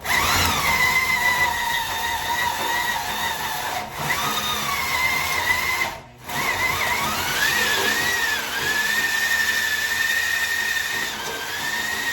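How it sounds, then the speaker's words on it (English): A power drill whines steadily at close range, its pitch shifting as it bites into the wood of an IKEA Milsbo cabinet, with a brief pause midway before the motor resumes. "get the drill started a little bit above the cabinet and then press it down into it and go"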